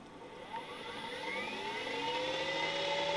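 An air-cooled electric motor driven by a DMOC645 inverter spins up under throttle, a steady whir with several tonal lines sweeping upward in pitch as it gains speed, growing gradually louder over about three seconds with no talking.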